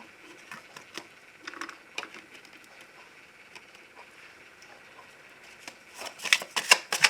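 Tarot cards are shuffled by hand before a reading, giving soft, irregular riffling and flicking patters that grow quicker and louder toward the end.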